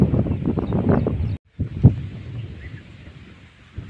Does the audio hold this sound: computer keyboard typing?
no